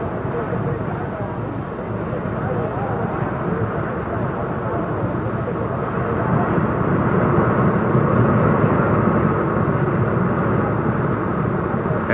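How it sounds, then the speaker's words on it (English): Jet dragster afterburners roar at a night drag race at the 1980 Popular Hot Rodding Nationals, a loud continuous rumbling blast that swells about halfway through, heard under a narrator's voice. "flame shoot from the afterburners as they're heated in preparation for one of the most spectacular sights in night racing"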